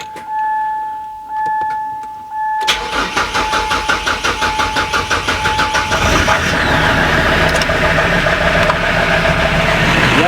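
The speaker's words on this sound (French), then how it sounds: "Allez, démarrage." An old rusty car's engine cranks and catches after a knock and a pause, then settles into a loud, steady idle with a rhythmic chug close by.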